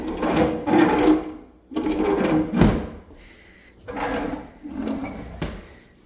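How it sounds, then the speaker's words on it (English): Solid wood kitchen drawers sliding open and shut in a house interior, several quick rolling slides in succession, close and moderately loud with brief pauses between them. "And you've got tons and tons and tons of drawers."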